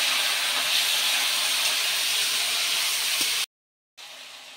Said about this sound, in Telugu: చికెన్ వేసుకొని చికెన్ కొద్దిసేపు ఫ్రై చేసుకోవాలి.